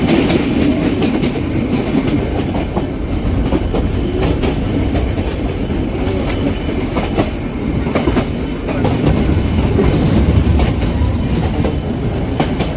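The Ooty toy train on the Mettupalayam to Ooty line runs on its rails with a steady, loud rumble and rhythmic clickety-clack of wheels over the joints, continuous throughout with no voices.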